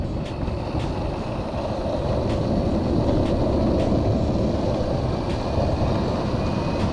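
Diyeboard 10s5p electric skateboard running at full throttle in pro mode, a loud steady rumble of wheels on pavement with a faint motor whine and periodic clicks, continuous and close, without talk.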